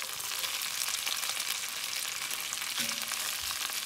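Beef strips searing in a hot pan for a beef and broccoli stir-fry, a steady close sizzle with faint stirring noises, no talk.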